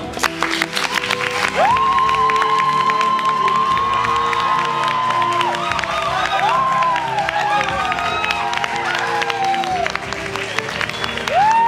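A large outdoor crowd claps and cheers steadily for a finalist contestant named Nico at a survival reality show finale, with whistles and shouts and a host's voice rising over the dense applause.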